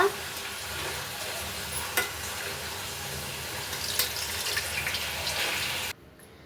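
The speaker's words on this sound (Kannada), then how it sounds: "ಇದನ್ನು ಸ್ವಲ್ಪ ಎಣ್ಣೆ ಕಾಯಕ್ಕೆ ಇಟ್ಟಿದ್ದೀನಿ, ಇದ್ರನ್ನ ಸ್ವಲ್ಪ ಕರ್ಕೊತಾ ಇದ್ದೀನಿ" Food frying in hot oil in a home kitchen gives a steady, close sizzle with a few brief clinks and scrapes, then cuts off abruptly near the end.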